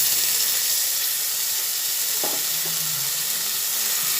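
Whisked sour yogurt goes into a hot frying pan over a lowered gas flame for Bengali doi vola, and a loud steady hiss and sizzle fills the whole span, with a brief soft clink partway through and no voices.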